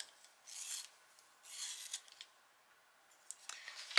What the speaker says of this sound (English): Need to sharpen it again though.